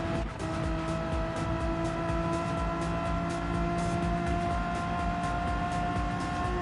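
Race cars in a Megane Trophy racing game run wheel to wheel, a steady loud engine drone with strong sustained harmonics holding for the whole stretch, no talk over it.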